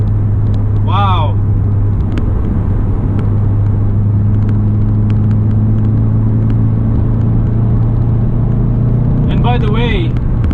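EQT car with a stage 1 tune, stock downpipe and catback with resonator delete, driving; a steady low engine drone and rumble throughout from inside the cabin, with brief rising whistles near the start and end.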